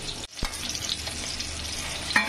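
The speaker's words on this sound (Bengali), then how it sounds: "এই ডিমটা এবার এর মধ্যে দিয়ে হালকা করে ভেজে নেব" A boiled egg lightly fries in a pan of chowmein ingredients, giving a steady close sizzle with a soft clatter of stirring near the start.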